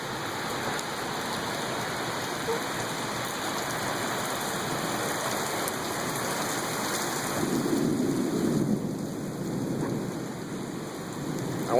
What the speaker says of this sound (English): even just having, like, this thunder and lightning on here is awesome, too